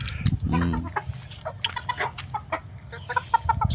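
A hen clucks repeatedly up close in short, uneven bursts, with faint farmyard background noise.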